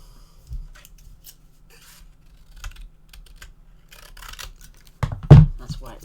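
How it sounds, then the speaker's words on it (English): Scissors snip through paper in a few separate cuts, with quiet pauses between and a louder, longer cut near the end. "I cut it with the scissors."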